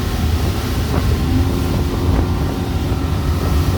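A 2007 Pro-Line 24 SS motorboat runs at speed against wind and current, engine roar blended with steady hull slap, water rush and heavy wind buffeting on the microphone.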